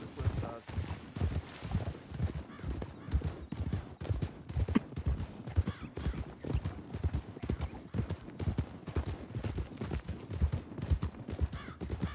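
A horse clip-clops along at a quick, regular pace, hooves striking hard ground up close, with voices speaking over the rhythmic beats.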